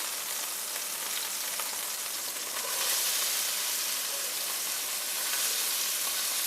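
Onions sizzle steadily in hot leftover pork fat in a pan, a dense, continuous frying hiss that swells slightly louder partway through, with no talking.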